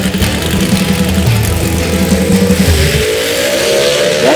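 A gasser-style drag race car with a freshly built engine roars past at full throttle, its loud revving engine rising in pitch and then dropping away near the end.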